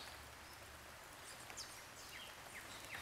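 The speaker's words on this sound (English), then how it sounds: "Oh yeah, it's full raining." Rain falls steadily in the Amazon, a soft continuous patter with a few faint bird chirps scattered through it.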